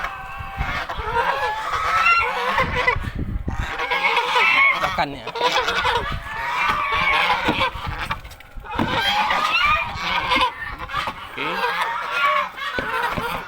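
A flock of ducks quacks and chatters noisily and continuously nearby, while someone briefly speaks over them.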